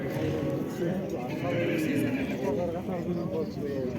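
Horses whinny and neigh repeatedly at the crowded Karakol livestock market, loud and close, while people talk and bargain in the background throughout.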